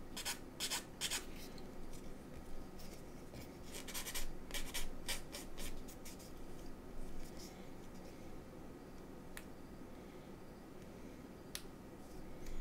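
Small nib being sanded off a plastic model kit part for a Hobby Boss GMC Bofors, faint close scratchy rubbing strokes in short bursts that fade to sparse quiet scrapes.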